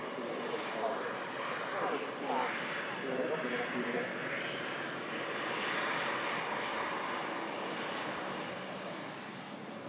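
An airliner arriving from Split at Manchester Airport during Storm Lilian, a steady, fairly distant jet rumble mixed with wind noise, with a voice talking faintly over it.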